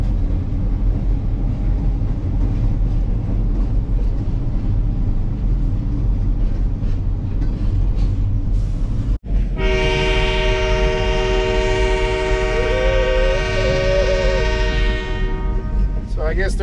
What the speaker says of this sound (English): It's midnight, and here comes that train.